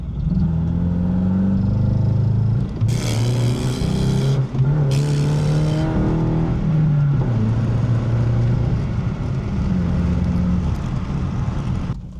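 A car engine idles and stumbles with uneven sputtering from a faulty fuel injector starving it of fuel, with two short bursts of loud revving partway through.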